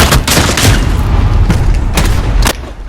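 Rapid bursts of gunfire in Call of Duty: Modern Warfare, dense and loud, with several sharp shots cutting through a continuous low rumble.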